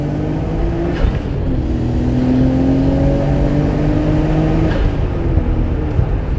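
A Nissan Skyline R32 GTR engine pulls hard in second gear, a steady loud drone with rising harmonic tones as the boost builds, continuous and close with no talking.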